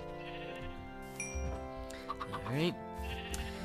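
Minecraft sheep bleat on a farm, a short wavering cry rising clearly over background game music, with a brief spoken word from a man nearby.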